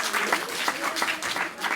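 Studio audience applauding a game show winner on a French live music show, a steady wash of clapping filling the short moment with no voices on top.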